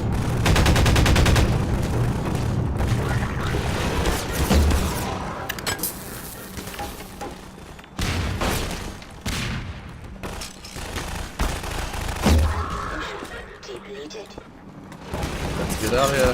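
Gunfire aimed at the player in Half-Life 2: Lost Coast, a run of loud, fast shots and bursts with a heavy thump or two, heard under someone talking.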